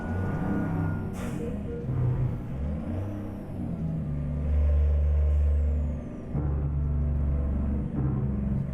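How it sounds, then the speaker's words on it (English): Trucks in American Truck Simulator brake hard in traffic, with a brief hiss of air brakes and the drone of engines and tires gearing down, loud and continuous, with no talking. "Everyone's slamming on their brakes now."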